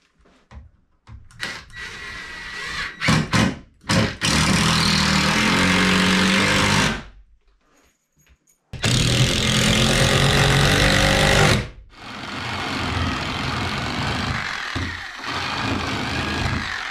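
A screw gun drives screws into wood framing for a new bathroom door, buzzing in loud sustained bursts several seconds long with brief pauses between runs.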